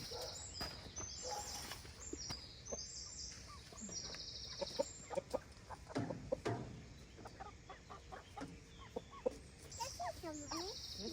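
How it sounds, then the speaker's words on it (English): Chickens clucking and calling around a coop on a Portugal homestead, a scattered mix of soft clucks and occasional louder calls over faint background noise, with a person speaking at moments. "I should go crack on quietly listening to the birds"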